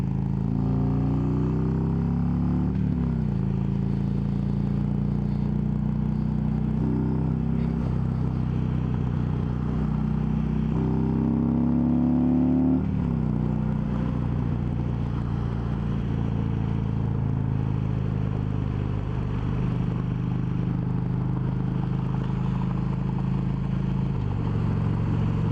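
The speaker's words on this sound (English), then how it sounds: "And engine braking on twin cams, as always, engine braking." Harley-Davidson Road Glide Ultra with a twin cam engine engine braking on the road, a steady low rumble with shifting tones and wind noise, moderately loud and continuous, no talk.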